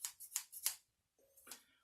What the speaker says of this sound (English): a nice pair of clean kitchen scissors